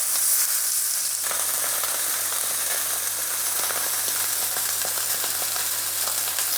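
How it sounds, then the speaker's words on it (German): Tafelspitz beef sears skin side down in hot oil in a pan, giving a steady, close, dense sizzle and crackle that runs unbroken for several seconds with no talking. "Und da drin brate ich mir den jetzt an,"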